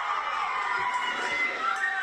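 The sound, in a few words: wrestling crowd cheering and shouting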